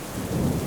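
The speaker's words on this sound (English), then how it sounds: "listening to the rain pounding against the windows" Heavy rain pounds against windows on a dark night with a low rumble of thunder underneath, a dense and loud wash of noise for less than a second.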